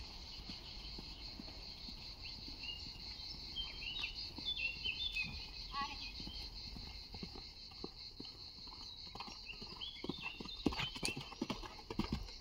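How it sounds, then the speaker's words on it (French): A horse trotting and cantering in a riding arena, with rhythmic hoof clip-clops that grow louder and more frequent later on, against a steady background of chirping crickets. "Saut au trot, galop à gauche."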